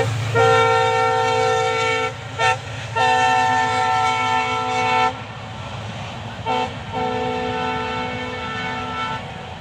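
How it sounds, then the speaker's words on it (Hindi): Train horn sounding in several long blasts at a railway station, with a brief gap between sustained tones over a steady rumble of rail cars; loud and fairly near. "और मैं आपको दिखा रहा हूँ अभी अपने ट्रेन"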